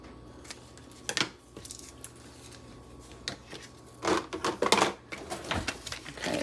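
Scissors snipping while preparing cake decorations in a home kitchen, a few quiet, close cuts in small clusters against a soft background.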